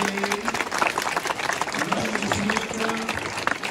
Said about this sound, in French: Et nous pouvons applaudir bien fort tous ces chevaux